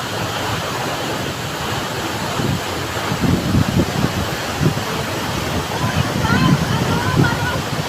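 Mother Falls pours in a loud, steady roar of falling water that fills the scene, with people talking over it.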